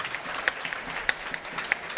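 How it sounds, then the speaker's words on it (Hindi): Loud, sustained applause from a large audience at a Hindi comic poetry gathering (hasya kavi sammelan), dense clapping throughout with a few sharper claps standing out. "जोरदार तालियों से अभिनंदन"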